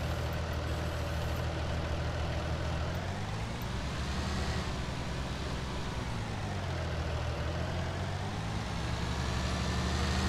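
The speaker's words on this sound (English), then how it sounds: "But it's a nice looking tractor at least." A farm tractor's engine idles steadily in a farming game, a continuous low rumble with a slight swell in pitch midway, close and loud with no talking.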